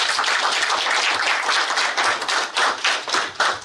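A crowd claps continuously, a dense patter of many hands that swells and dips slightly over a few seconds.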